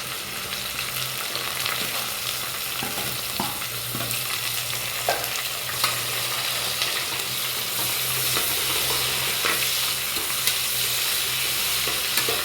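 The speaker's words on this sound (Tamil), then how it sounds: "வெங்காயம் நல்லா வதங்கட்டும்." Onions sauté in a pan for Chettinad mutton biryani, with a steady, loud sizzle and faint stirring scrapes throughout.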